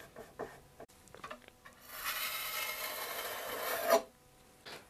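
Wood filler being pressed and worked across a crack in a piece of furniture with a putty knife. A steady scraping rasp lasts about two seconds between softer scattered scuffs and taps.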